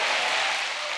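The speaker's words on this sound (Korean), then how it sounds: "주님께 영광의 박수 올려드리겠습니다." A church congregation applauds in a dense, continuous wash of clapping that holds steady for about a second.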